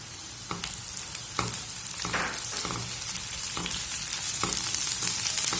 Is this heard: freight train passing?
no